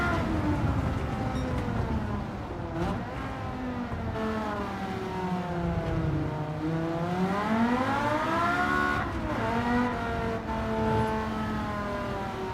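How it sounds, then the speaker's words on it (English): A race car engine in the video game Gran Turismo 7, fitted with a race exhaust, silencer and manifold, drones steadily, its pitch rising and falling through gear changes and revs, loud and continuous. "This car sounds pretty good with a race exhaust and silencer and manifold and all that."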